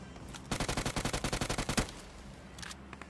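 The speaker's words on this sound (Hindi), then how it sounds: "लेकिन तभी लेफ्ट साइड से एक और बंदा फायर करता है।" Rapid automatic gunfire from the left in PUBG, a steady string of about fifteen evenly spaced shots in one burst lasting just over a second, then a few fainter shots afterward.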